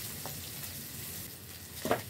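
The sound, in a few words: chicken feet frying in oil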